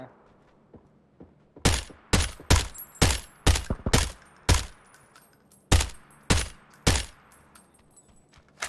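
Gunfire in the battle-royale game PUBG, about ten loud sharp shots in an irregular burst from mid-clip onward, each cracking over a low rumbling background.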